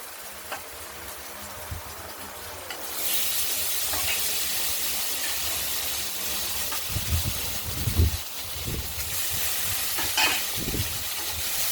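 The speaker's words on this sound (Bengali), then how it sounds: "এই ফোড়নের সঙ্গে ভাজা ভাজা করে নেব।" Potatoes frying in oil with bay leaf, cumin and black cumin, a steady sizzle that swells louder after a few seconds, with intermittent low thumps and scrapes of stirring and no speech.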